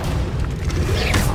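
The Accio summoning spell from the video game Hogwarts Legacy lands as a loud, low boom with a rushing magical whoosh, filling the whole short burst amid mechanical clatter, with a voice briefly present.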